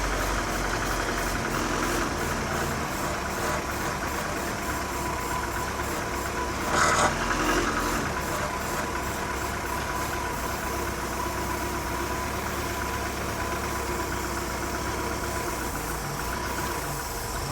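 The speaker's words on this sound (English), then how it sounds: "Engine is up to temperature at this moment in time." A Mercruiser boat engine, warmed up and being winterized, idles steadily at close range with a low, even rumble and faint knocking beat, a brief louder burst mid-way and no voices.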